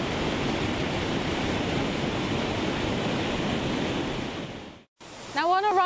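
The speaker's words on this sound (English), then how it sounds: "these wonderful waterfalls" A UK waterfall roars with a steady, loud rush of falling water that cuts off abruptly, and a voice begins speaking just after.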